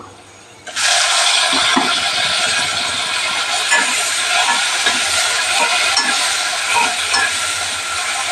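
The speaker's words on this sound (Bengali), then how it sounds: "টমেটোটা দেওয়া হলো" Chopped tomato hits hot oil in a pan while making papaya fish curry, giving a sudden loud, steady sizzle that continues unbroken and close, with no talking.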